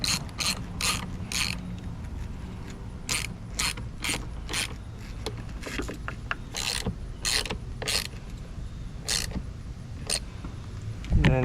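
A strap on a Ford Bronco bimini top is cinched tight, with sharp ratcheting clicks in quick irregular bursts close by, separated by brief pauses and faint handling noise.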